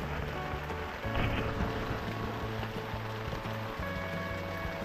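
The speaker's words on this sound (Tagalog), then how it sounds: "At umuulan-ulan pa." Steady rain patters on a surface outdoors at a relaxed roadside hangout, a constant broadband hiss with scattered drops and low background hum, no talking.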